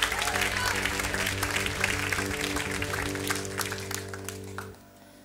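A church congregation at an independence-day worship service clapping and cheering for God, steady loud applause over sustained organ or keyboard chords that cut off near the end.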